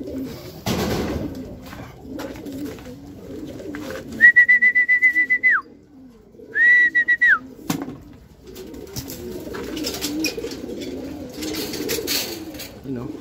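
Racing pigeons returning from a 253 km derby race from Bacnotan, La Union, coo and flutter close by, with bursts of loud whistle tones and people talking in the background.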